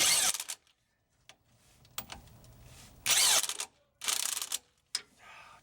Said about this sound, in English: I just got this impact for Christmas, so of course I got to use it, even though there's only 2 bolts.